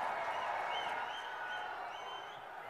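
A crowd at a political rally in Nagaur applauds, a steady wash of distant clapping that stays even and slowly fades, with no clear speech over it.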